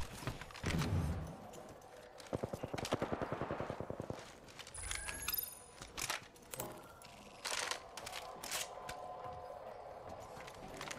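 Bursts of automatic gunfire in the battle-royale shooter Apex Legends, rapid rattling volleys and scattered single shots up close, with clicking weapon and menu effects between them and no talk.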